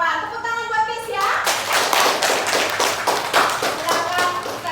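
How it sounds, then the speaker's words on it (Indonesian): Children in a classroom clap together in a brisk run of many claps that keeps going for several seconds, with small voices mixed in. "Tepuk tangan buat Keisha."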